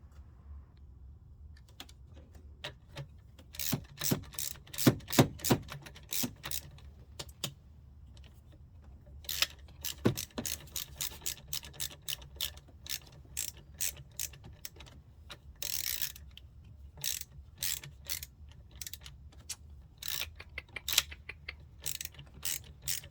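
A ratchet tightens a nut on a Honda Civic Type R EP3, giving bursts of quick metallic clicks in irregular runs separated by brief pauses, close and fairly quiet.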